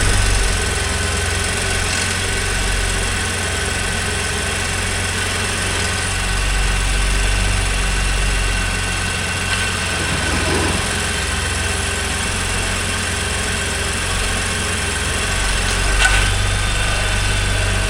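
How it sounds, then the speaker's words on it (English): A 2021 Ford F-150 pickup's 3.5 EcoBoost engine idles steadily nearby, a constant low rumble with slight vibration and a few faint clicks, no talking. "We got the engine running."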